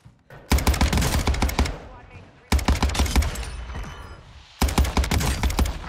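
Three loud, rapid bursts of Cronen Squall DMR fire in Warzone 2, each a quick run of sharp cracks close up, with a person talking between them.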